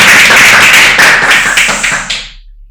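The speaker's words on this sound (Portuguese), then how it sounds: "uma forte salva de palmas" A strong round of applause from an audience, dense hand claps at close range that ring out loudly before fading away over the last second.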